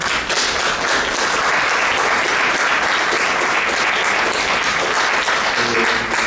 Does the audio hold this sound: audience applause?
yes